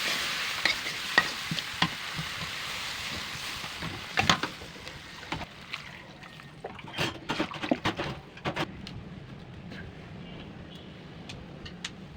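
Spice paste with salt and turmeric frying in a pan for koi fish curry, a soft steady sizzle broken by the clacks and scrapes of a spoon stirring, close and alone.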